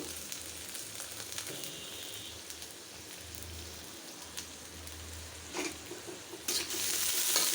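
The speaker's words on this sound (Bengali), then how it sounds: "একটু ভেজে নিই পেঁয়াজটা" Onion with a spice paste of green chili, turmeric, chili powder and salt sizzles in a pan for a pungent mashed dish, a steady soft frying hiss with stirring that swells louder near the end, no voices.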